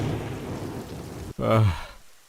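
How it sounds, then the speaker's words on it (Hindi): Heavy rain pours down in a steady hiss during a storm, and a voice speaks briefly over it near the end. "अरे ये बारिश तो छूटने का नाम नहीं ले रही है"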